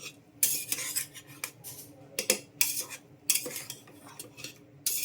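Rice being mixed and fried in a pan with a spoon, giving repeated scraping, clattering strokes of metal on metal in an irregular rhythm, close and fairly loud with brief pauses and no talking.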